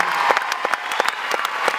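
A short burst of audience clapping for former students of a foundation at its tenth anniversary slam event: brisk, scattered hand claps at moderate volume.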